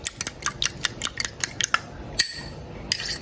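Two eggs being beaten loose in a bowl for a pudding batter, giving a quick, uneven run of light clicking utensil strikes against the bowl, close and fairly loud, with no voices.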